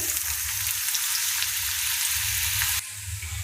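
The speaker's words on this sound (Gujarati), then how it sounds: "કોબી મરચું અને ડુંગળીનો વઘાર કરશું" Steady, loud sizzling of cabbage, chilli and onion frying in hot oil, continuous crackle throughout with a slight drop in level near the end.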